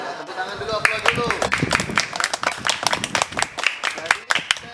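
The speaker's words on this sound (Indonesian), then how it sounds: "tepuk tangan dulu, aplaus dulu." Students in a class practising relay running applaud together, a quick, dense burst of hand claps that runs steadily throughout with voices mixed in.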